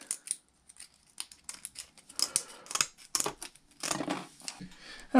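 Scissors snipping through a sheet of plastic to cut a patch for repairing a damaged RC car body, a run of close, crisp cuts in irregular bursts with brief pauses, no talking.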